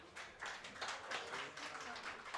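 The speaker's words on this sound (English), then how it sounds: "please join me in welcoming our moderator with a warm round of applause" A conference audience applauds to welcome a panel moderator at a semiconductor workforce event, a steady wash of many hands clapping at moderate level, fairly distant and continuous throughout.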